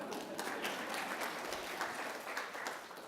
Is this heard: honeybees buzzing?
no